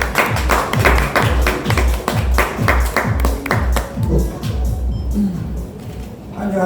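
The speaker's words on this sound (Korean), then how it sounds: "큰 박수로 모시겠습니다." Rhythmic clapping from a media audience welcoming the head of Maserati Korea at a Grecale launch event in Seoul, strong regular claps for several seconds before fading out, with a voice briefly audible near the end.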